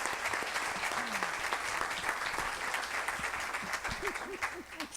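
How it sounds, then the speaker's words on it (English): Audience applause at a Petaluma mayoral and city council candidate forum, a steady wash of clapping from a room of people lasting throughout, with a few faint voices calling out underneath. "Okay, clap now."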